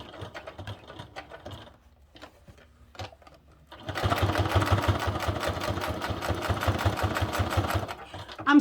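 A domestic sewing machine stitches along the scratchy hook side of Velcro on a fabric bib, first in a few short start-stop bursts, then a steady fast rhythmic whirring run for about four seconds, close and clear.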